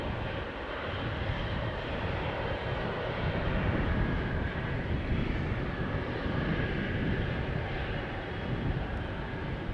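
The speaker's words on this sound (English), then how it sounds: "The 777 to Houston is coming." A Boeing 777 bound for Houston departs from Amsterdam Schiphol Airport with a broad, steady jet engine roar heard from fairly close, staying loud and even throughout.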